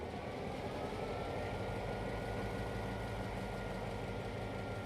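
An EMD SD9 diesel locomotive in a repaint rolling past in the TANE train simulator, a constant low engine drone and rumble holding steady throughout, with no talk.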